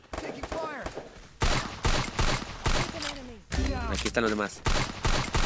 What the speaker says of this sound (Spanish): ya se escuchan los disparos